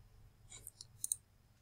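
A few faint mouse clicks while opening a website link, two or three soft isolated ticks close together near the end, over a quiet background with no talking.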